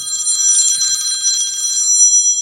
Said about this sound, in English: wow, I left my phone on